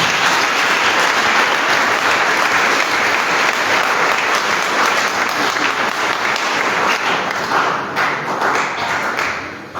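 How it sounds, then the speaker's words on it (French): A church congregation at a prayer assembly breaks into loud, sustained applause and cheering for Jesus. Dense clapping holds for about ten seconds and tapers slightly at the end. "On acclame pour Jésus."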